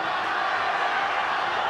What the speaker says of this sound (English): The crowd is beside itself.